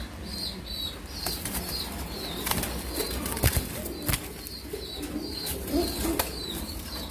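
Caged pigeons for sale, a Telmark pair among them, flap their wings in repeated loud bursts while soft cooing and chirps carry through steadily in the background.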